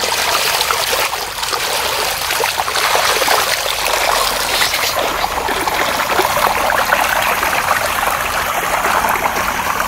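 A small river with a strong, fast current rushes steadily and loudly nearby, a constant broadband roar of churning water with no speech.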